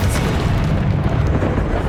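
A heavy, sustained booming blast from a Bombarda or Confringo spell in the Hogwarts Legacy game, loud and rumbling throughout the short clip with no talk over it.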